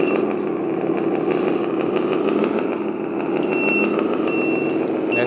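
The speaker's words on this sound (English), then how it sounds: "That's the engine sound." Steady simulated engine hum from the sound system of a LESU 8x8 RC hydraulic dump truck, a continuous idling drone with slight rumble, loud and close, no talking.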